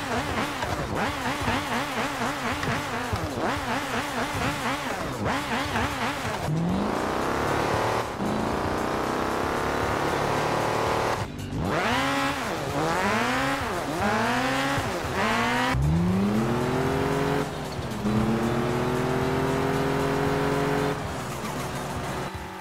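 Porsche 919 race car with a 907-horsepower stock engine in Car Parking Multiplayer, revving loud and close through repeated rising gear sweeps, with tire squeal and no talk.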